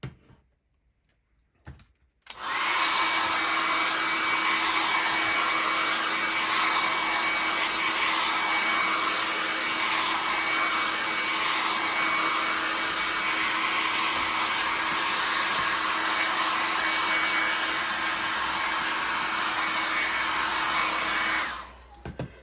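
After a brief quiet moment, a hair dryer blows steadily for about twenty seconds while drying a restored Osprey leather handbag, then shuts off.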